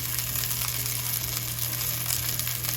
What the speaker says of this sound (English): that sizzle should continue through the whole cooking process